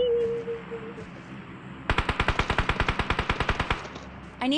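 Automatic gunfire in the mobile battle royale game PUBG Mobile: a rapid, evenly spaced burst of about twenty loud shots, preceded by quiet game ambience and followed by a brief sharp noise at the end.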